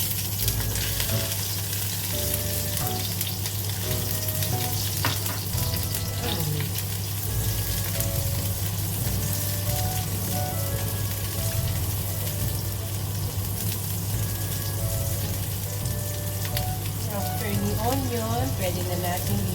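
Ginger and onion sizzle steadily in a hot pan, a dense continuous frying hiss with occasional stirring, while someone talks over it.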